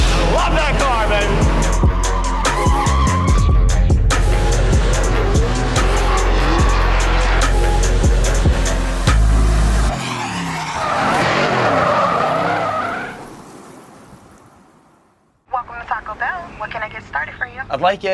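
Pro drift cars at Formula Drift Utah 2025, Round 7 seeding, scream with loud, sustained tire squeal and roaring engines. The sound fades out briefly, then another burst returns.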